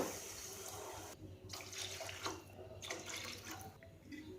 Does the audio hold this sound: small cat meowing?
no